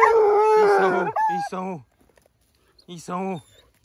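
Hunting dogs howl in two drawn-out, wavering bursts, loud and close, with a short quiet gap between them.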